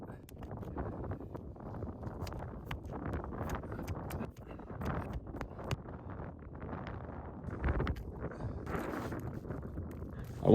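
Strong, cold wind blows outdoors in uneven gusts, buffeting the microphone with a low, rumbling roar that swells and drops throughout.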